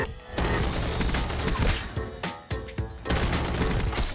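Automatic gunfire from a gun in Black Ops 6 rattles out in loud, rapid bursts, with brief gaps between strings of shots.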